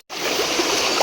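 A small river stream runs steadily on a hillside path toward a remote house, a close, continuous rushing flow of water that starts abruptly and holds an even level throughout.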